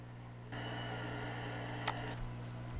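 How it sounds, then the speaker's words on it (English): Steady broadband air conditioner hum running continuously indoors, rising in level after the first half second and holding constant, with a couple of brief faint clicks near the middle. "That noise is coming from my air conditioner and I cannot turn it off"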